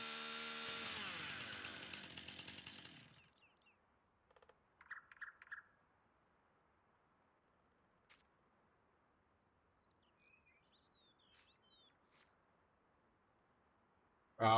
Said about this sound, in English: This mod allowing the chainsaw to take out stumps is like my favorite thing.